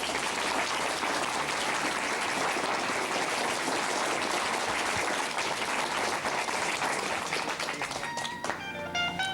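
Audience applause at a comedy show, dense and sustained clapping filling the whole stretch before thinning slightly at the end, with faint voices showing through near the close.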